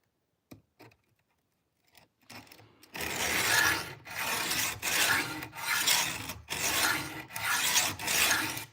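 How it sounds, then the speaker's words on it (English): An old pocket knife is worked against a sharpening stone in long repeated rasping strokes, loud and close, each pass separated by brief pauses after a few faint taps at the start. "I'm working on sharpening one of my grandpa's old knives."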